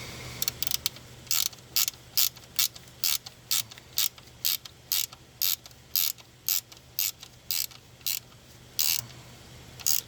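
A ratchet tightens a 10 mm bolt on a catch can during an install on a 2007 to 2013 Silverado: loud, close bursts of rapid clicking repeat in an even rhythm over a low steady hum.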